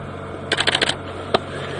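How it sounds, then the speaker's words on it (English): A camera shutter fires on an afternoon safari drive at Djuma Game Reserve, a quick burst of five rapid clicks followed by one more single click, close and crisp over a steady outdoor hum. "So if you hear that clicking, sorry, that's just my camera."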